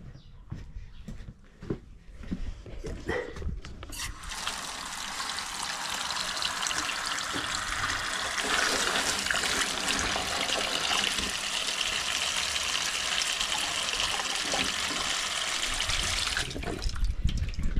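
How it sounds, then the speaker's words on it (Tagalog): Tap water runs steadily from a faucet into a sink while eggs are washed, a continuous broadband gush that starts after a few seconds of quieter handling and stays close and even, with no talking. "hinupin natin ng gripo para maghugas tayo ng itlog"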